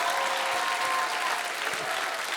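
A theatre audience claps in a dense, even burst of applause that holds steady and loud throughout, with no distinct voices over it.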